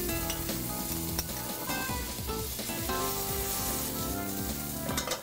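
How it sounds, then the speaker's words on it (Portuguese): Carrot, garlic clove and onion sautéing in a pot, giving a dense, steady sizzle with frequent clattering stirs and utensil knocks close by, and no talking. "Eu vou refogar aqui, junto com a cenoura, o dentinho de alho,"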